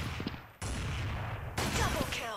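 Sniper rifle fire in a shooting video game: loud, sharp gunshot bursts with dense crackling and ringing tails, one blast near the start and another later, crowding the short stretch.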